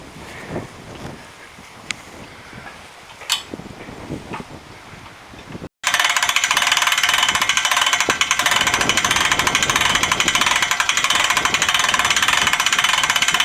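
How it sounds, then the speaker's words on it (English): A trailer winch hauls in its strap to raise the mast on a WR17 sailboat. Quiet handling sounds come first, then from about the midpoint a loud, steady mechanical ratcheting rattle runs to the end. "the winch strap is still over the top of this top roller and ready to be winched in to take the pressure off of the forestay"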